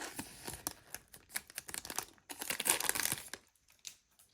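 A Pokémon card booster pack wrapper is torn and crinkled open up close, a quick series of rustling rips and crackles over a few seconds, then quieting.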